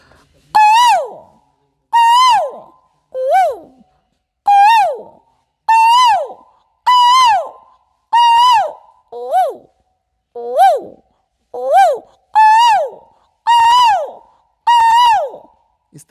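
A man imitates the call of a koel bird, whistling about a dozen loud, rising then falling notes in a steady rhythm, close up with silence between each call.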